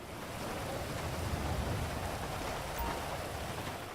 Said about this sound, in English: Tell him to walk home in the pouring rain.